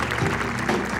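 Brief burst of steady crowd applause at a Miss Universo Argentina pageant runway show, loud and unbroken, mixed with background music.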